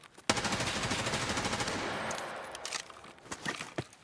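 Rapid rifle fire rattles through a FireFight match, a loud opening shot followed by a dense automatic burst, then scattered sharper shots trailing off.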